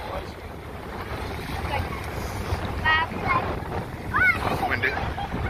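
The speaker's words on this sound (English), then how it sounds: "Sorry peeps, it's going to be a lot windy." Strong wind buffets the microphone outdoors aboard a fishing boat, a steady low rumble with broadband noise throughout, and faint chirpy sounds rising briefly above it.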